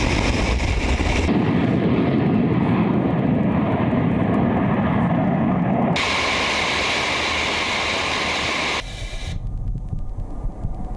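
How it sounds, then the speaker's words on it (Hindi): Loud, continuous jet roar from French Rafale and Mirage 2000 fighter jets during air strikes, a sustained broadband rush that shifts in tone midway and drops off near the end, with no talk. "फ्रांस ने फाइटर प्लेन राफेल और मिराज 2000 के जरिए रक्का शहर पर 20 बम गिराए।"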